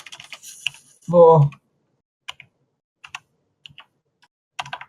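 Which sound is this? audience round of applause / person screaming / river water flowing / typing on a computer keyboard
typing on a computer keyboard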